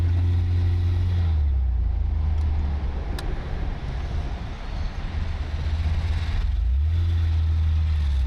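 A gas engine fitted to a thick-chassis bike runs with a deep, loud low rumble, the tone shifting partway through before the steady idle returns.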